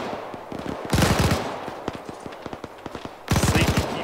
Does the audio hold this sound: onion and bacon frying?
no